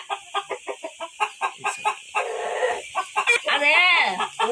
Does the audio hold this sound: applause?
no